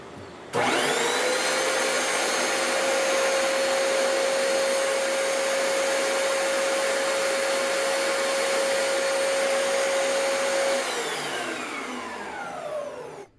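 A vacuum cleaner powered by an AceVolt Campower 2000 portable power station whirs up and runs with a loud, steady high-pitched whine for about ten seconds before winding down.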